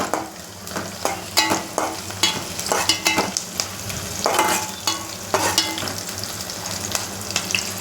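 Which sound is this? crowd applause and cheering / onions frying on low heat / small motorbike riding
onions frying on low heat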